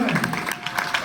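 A group of people claps in a short burst of applause at an interview gathering, the patter of hands mixed under overlapping talk.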